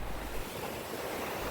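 Waves on the Kaunas sea wash against a houseboat frame under construction, a steady broadband rush of water with wind noise, continuous and fairly close for the whole moment.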